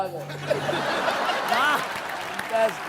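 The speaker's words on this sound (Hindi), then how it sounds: "जोरदार तालियां धर्मेश के लिए।" Studio audience applause on a Hindi television entertainment show, mixed with chuckles, whoops and overlapping talk, swelling briefly in the middle and near the end.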